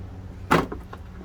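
A car turn signal light housing held by two plastic tabs gives one short, sharp plastic snap as it is pulled out, then a few faint rattling clicks.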